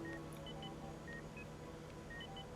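Telephone dialing tones from the control panel of a new hospital operating theater, a series of short steady beeps in irregular rhythm over a constant background hum.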